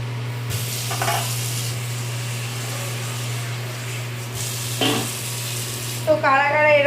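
Rice and lentils dropped into a hot pot on a non-gas stove give a steady sizzling fry with a few stirring scrapes, close and fairly loud over a constant low hum, with no talk.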